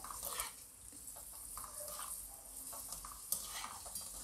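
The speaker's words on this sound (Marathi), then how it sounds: "हे देखील आपल्याला छान तेलात तळून घ्यायचे आहे तेलात टाकल्या टाकल्या बेदाणे फुगायला लागतात" Raisins fry in hot oil over a medium flame, a soft steady sizzle with light stirring and occasional scrapes, faint and close, with no voices.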